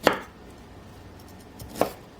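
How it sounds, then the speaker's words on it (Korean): Two crisp knife chops hit a cutting board as firm broccoli stems are cut into small pieces, one at the start and one near the end, with a quiet pause between and no voices. "송이의 단단한 부분을 작은 크기로 먼저 잘라요"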